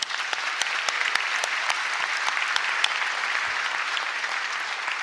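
A full room applauds elementary and middle school teachers at a high school graduation, a dense, continuous roar of clapping with crisp individual claps standing out throughout.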